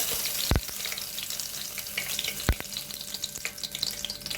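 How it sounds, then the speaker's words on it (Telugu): Bay leaf and biryani masala sizzle in hot oil in a pot for Guntur gongura pulav, a steady close frying hiss broken by a couple of sharp knocks of a spoon against the pot, with no talk. "ఇప్పుడు అదే దాంట్లో బిర్యానీ ఆకు, ఇంకా బిర్యానీ మసాలా అంతా యాడ్ చేసుకోవాలి."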